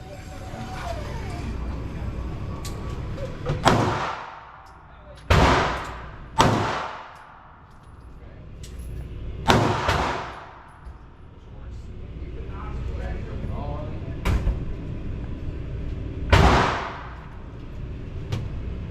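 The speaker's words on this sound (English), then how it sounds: "I had a really good time shooting this gun" Sharp gunshots from an FN 502 Tactical .22LR pistol ring out one at a time at uneven intervals, about six or seven reports over a steady outdoor background hum.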